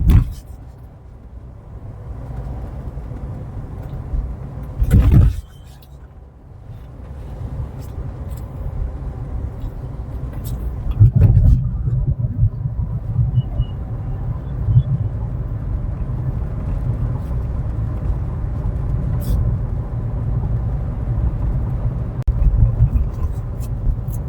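A car cruising over a wide, spacious bridge road on the Mumbai to Pune journey, heard from inside as a steady low engine and road rumble with a couple of louder swells as vehicles pass.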